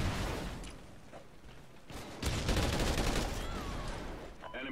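Gunfire bursts in the Call of Duty Ghosts video game, a dense rattle of rapid shots building to a louder sustained volley near the end, with faint voices mixed in.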